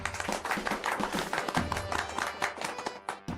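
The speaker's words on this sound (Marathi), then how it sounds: "टाळ्या टाळ्या टाळ्या." An audience at an office inauguration claps together, a dense, steady patter of many hands running throughout at moderate loudness.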